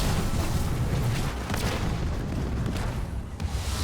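A grenade explosion in the real-time strategy game Halo Wars 2, heard as a loud, sustained, rumbling boom amid dense battle noise, with no talking.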